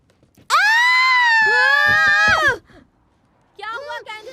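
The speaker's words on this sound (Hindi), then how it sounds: "चिल्ला क्यों रही हो?" A girl lets out a long, loud, piercing scream lasting about two seconds at close range, then a shorter wavering cry follows after a pause.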